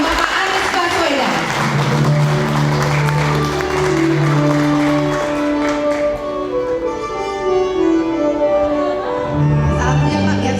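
A large audience applauds at a talk held by the Habibie Center as Anies Baswedan is welcomed onto the stage. The clapping is loud and sustained, with a voice speaking over it and a musical tone sounding underneath.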